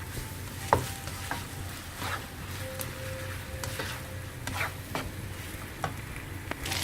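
Indian-style fried kuey teow noodles are stirred in a pan, giving a soft, continuous sizzle with scattered spatula scrapes and taps, fairly quiet and close, with no talking.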